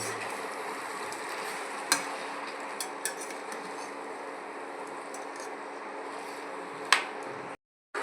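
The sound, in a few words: meat and potatoes being stir-fried with spices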